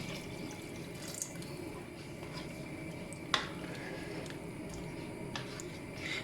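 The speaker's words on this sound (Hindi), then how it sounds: "इसलिए इसमें मैं थोड़ा सा और पानी ऐड करूँगी" Water poured into a pot of chicken neck curry, a soft continuous trickle with a few small splashes and clinks, faint and close, with no talking.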